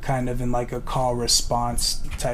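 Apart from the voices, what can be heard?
None of the usual background noises is heard.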